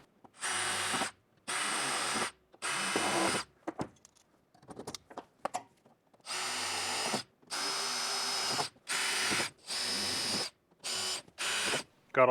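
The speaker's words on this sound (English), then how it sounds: "I'm going to now match drill through these holes that I just put in the stiffeners" A power drill whirs in a series of short bursts, about eight or nine, match drilling holes through aircraft stiffeners, with brief pauses and faint clicks between them, close and loud.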